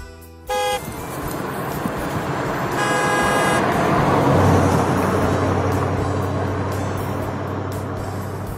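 A bus horn honks twice, a brief blast followed by a longer one, over a steady rumble of road traffic and passing engines.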